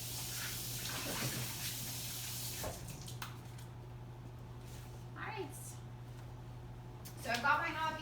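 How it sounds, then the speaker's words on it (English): Tap water runs into a kitchen sink while hands are washed, a steady soft rush that is strongest early and then fades to low background under faint handling noises. "And then I'm gonna wash my hands."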